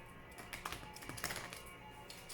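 Oracle cards are shuffled in short, soft riffling and tapping bursts, close and quiet, over a low steady background hum, with no talking.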